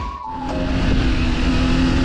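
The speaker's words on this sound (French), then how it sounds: "Je vais chauffer les pneus doucement parce que la moto elle est quand même neuve" Kawasaki Ninja 400 (2023) motorcycle ridden gently to warm its new tires, its engine holding a steady, loud drone close by with a rising tonal whine and brief tire-like squeal tones.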